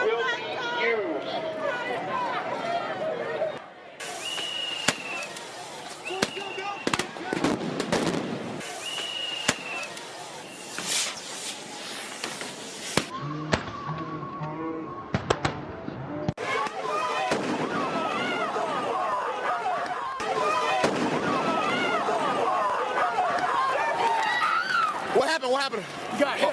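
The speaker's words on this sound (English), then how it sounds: "This sound clip is of veteran Scott Olson being shot in the head with a projectile during that riot." Police fire projectiles at protesters during the 2011 Oakland riot: sharp, loud bangs and pops burst out repeatedly over a chaotic crowd, with shouting and chatter throughout and dense noise after each report.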